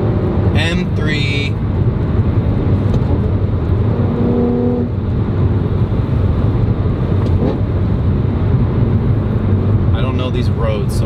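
A BMW E92 M3 driving on a road, its engine droning steadily with brief rising revs. A person talks over the car noise for much of the time.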